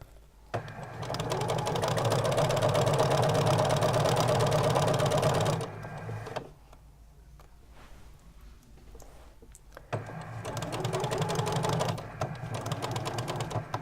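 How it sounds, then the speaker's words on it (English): A sewing machine stitches bunting fabric in two loud, steady bursts of rapid needle clatter, separated by a few seconds of quieter pause with faint handling noise. "As before, I'm going to do a back stitch to secure it at the end."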